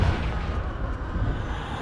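The Confringo fire spell in Hogwarts Legacy bursts as a loud, dense explosion whose rumble fills the whole short moment without a pause.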